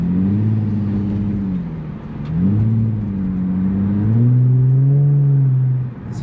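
An Infiniti G35 engine with its muffler deleted revs loudly and steadily with a deep, throaty drone, rising and falling in pitch over several seconds.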